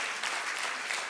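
A church congregation claps in a dense, continuous wash of applause during a sermon on worship, steady and moderately loud throughout the short stretch.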